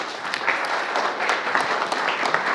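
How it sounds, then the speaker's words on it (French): A short burst of steady clapping from a small church congregation, close and fairly loud, continuing evenly throughout. "Applaudis."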